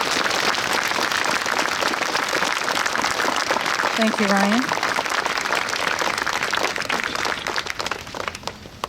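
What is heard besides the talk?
audience applause for veterans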